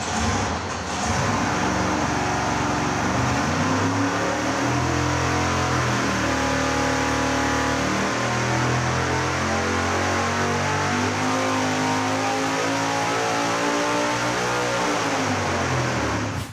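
A supercharged big-block Chevy on nitrous, a roughly 1,300-horsepower engine, sweeps up from 5,000 to 7,200 RPM on a dyno, roaring loud and close with a rising pitch across the long pull.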